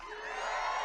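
Large crowd at a Donald Trump rally cheering and whooping, a brief dense swell of many voices rising in volume over under a second.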